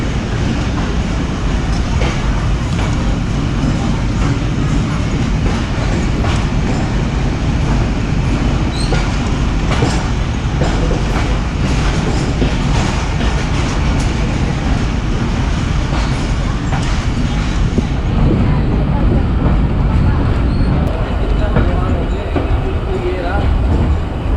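A 25UP Zakaria Express passenger train runs from Karachi to Multan, with a steady, loud rumble and clatter of the carriages going on throughout and a slight shift in tone near the end.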